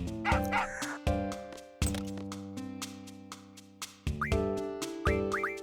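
Georgie the dog in Final Fantasy VIII gives several short synthesized yips and barks in a bouncy pattern over game music, with no talking.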